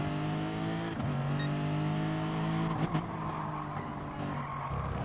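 A BMW touring race car in Gran Turismo Sport at Brands Hatch, engine droning at high revs with tire squeal and gear-change dips, other cars close by, loud and continuous.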